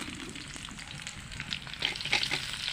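Sliced bitter gourd sizzles in hot oil alongside fried potatoes, a loud, continuous crackling fry close up with light stirring noises over a few seconds.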